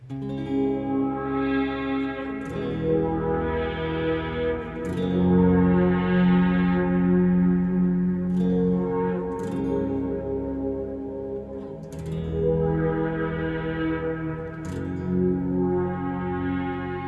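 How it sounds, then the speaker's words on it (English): A sustained pad from a BOSS SY-1 synthesizer with chords shifting every few seconds, washed in echoing delay and a long reverb tail, played alone. "let's go ahead and put this pad setting with some delay and reverb again"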